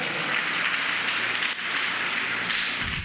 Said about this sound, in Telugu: గట్టిగా చప్పట్లు కొట్టండి, గట్టిగా కొట్టాల.